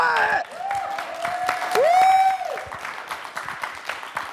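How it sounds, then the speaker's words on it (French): An audience at a French disability-rights summer university conference applauds at the close of the first day. Scattered claps come through alongside loud, sliding whistle-like tones and a brief swell of noise. "J'entends vos applaudissements"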